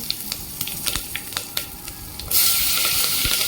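Asafoetida, turmeric, bay leaf, cinnamon and curry leaves are stirred in hot oil for a masala khichdi. Soft clinks and sizzling give way to a sudden, loud, steady hiss of frying.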